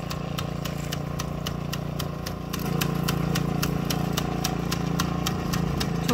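A rice transplanter's engine runs steadily while planting a small paddy field, a continuous mid-pitched drone with a sharp, regular ticking clatter on top that grows slightly louder partway through, close by.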